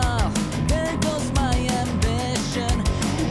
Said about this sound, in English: our hardest accent on the 2, and then our softest accent on the ands. And it sounds like this.